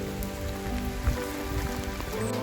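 Steady rain patters densely on surfaces during a storm, a continuous close hiss with a small thump partway through.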